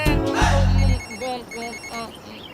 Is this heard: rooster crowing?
no